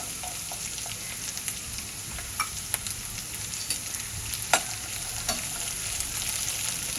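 Cauliflower, beans, carrots and peas frying in hot oil for navratan pulao, a low steady sizzle with occasional stirring clinks and scrapes, close and moderately quiet, no voices.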